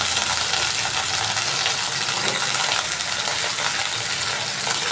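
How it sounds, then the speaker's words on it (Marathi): Brinjals, previously soaked in salted water, frying in a generous amount of oil in a kadhai on a gas stove, giving a steady, dense sizzle and crackle that stays loud and even throughout with no talking. "त्यानंतर त्यामध्ये मिठाच्या पाण्यात ठेवलेली वांगी घालून परतावी."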